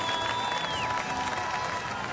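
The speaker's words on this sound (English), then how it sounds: "Folks applauding the Pirates" Moderate applause from a baseball stadium crowd for the Pittsburgh Pirates, steady and a bit distant, with a thin high tone sweeping briefly over it.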